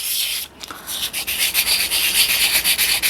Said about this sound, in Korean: 요런 거는 좀 굵은 사포로 갈아주시는 게 좋고요